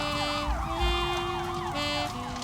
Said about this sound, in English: There are the sirens.